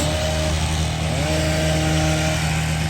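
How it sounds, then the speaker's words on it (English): A hedge trimmer runs continuously close by, a loud, steady buzzing motor drone with a sustained tonal whine that stays level throughout, no speech over it. "I've got to stop now because the hedge trimming and I won't be able to hear myself"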